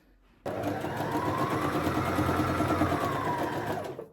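A sewing machine stitches pieces of a baby girl's dress in one continuous, steady mechanical whir that runs close and loud for about four seconds, then stops.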